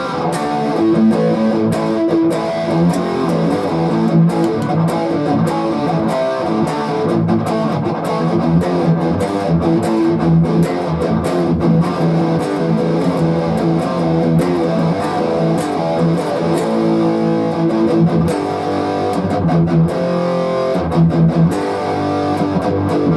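A Gibson Les Paul electric guitar with a little distortion, playing dense chords and riffs continuously and loudly for over twenty seconds, with brief gaps and strummed accents near the end.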